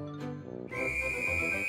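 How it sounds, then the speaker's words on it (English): A toy whistle blows one sustained, bright tone after a brief musical lead-in, loud and alone with no talking. "A whistle!"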